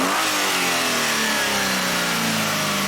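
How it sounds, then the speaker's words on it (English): Up close, a Hyundai Sonata with a faulty crankshaft sensor revs up, its engine climbing steadily in pitch into a loud, continuous roar with no talking over it. "So now I'm going to increase the engine RPM."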